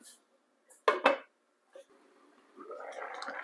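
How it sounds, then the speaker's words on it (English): A lid is set onto a cooking pot holding carrots and potatoes, giving two close metallic clanks followed by a softer knock and then low bubbling or simmering noise. "I'm going to cover my pot for it to come to a boil."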